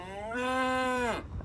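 A calf in a barn lets out a single clear moo of about a second, sustained and steady in pitch before a short drop at the end, close and alone.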